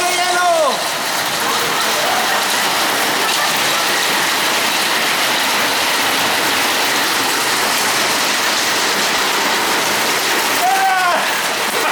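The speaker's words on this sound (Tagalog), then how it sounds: "Umuulan ng yelo!" Hail falling in Saudi Arabia, a dense continuous clatter of ice pellets striking surfaces at close range, with brief voices breaking in near the start and end.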